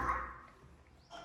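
A person imitates a small puppy with a short, high yip followed by a fading whimper, then a second brief yelp, close and fairly quiet.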